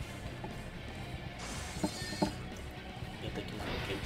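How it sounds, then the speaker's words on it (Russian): A plate falls and shatters in the WWF SmackDown! video game during a hardcore match, a faint, brief crash of breaking crockery over quiet game noise while someone talks. "Так, опять тарелка упала."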